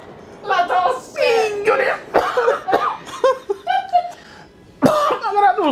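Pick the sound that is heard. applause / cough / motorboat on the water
cough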